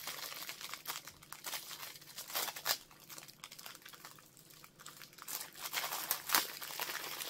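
Plastic packaging from small online-order items being handled and opened, with intermittent close crinkling and rustling in irregular bursts, no talking.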